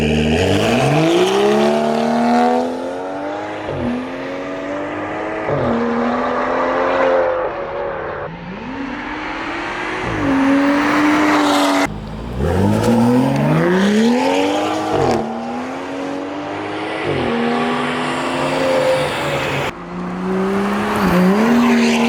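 A 2010s BMW 335i (F30) engine revs hard through repeated rising gear pulls, tires squealing as it launches and accelerates loudly nearby.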